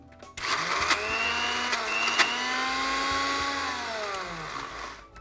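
A mixer grinder grinding sugar whirs loudly and steadily for several seconds, its motor pitch sliding slightly, with a few brief clicks and knocks.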